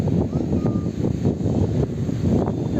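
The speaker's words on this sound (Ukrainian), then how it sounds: "Ой, такий вітер" Strong wind buffeting the microphone outdoors in Kolomyia, Ukraine, a constant loud roar with gusty rumbles throughout and no clear speech.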